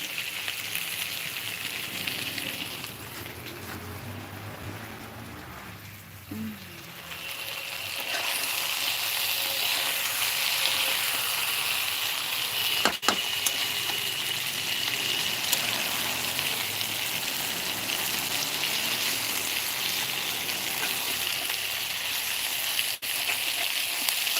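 Chicken kosha sautéing in a pan gives a steady, loud broadband sizzle and hiss that holds nearly unbroken, dipping briefly before swelling back fuller, with a couple of sharp clicks.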